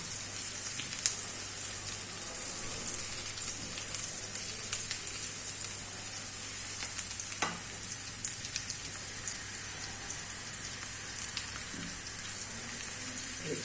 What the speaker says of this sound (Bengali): আলুর সাথে এই পেঁয়াজের সাথে আমি আলুটাকে ভেজে নিব।